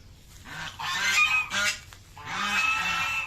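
A hill myna calls in loud, close bursts, with a few harsh honking squawks mixed with piercing whistled notes, separated by short pauses.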